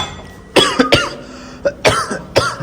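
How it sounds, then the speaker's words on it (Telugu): A person in a hotel room by a balcony coughs in several harsh bursts, some single and some in quick pairs. The coughs are close and loud against a quiet background. "సారీ దగ్గి మిమ్మల్ని డిస్టర్బ్ చేస్తే"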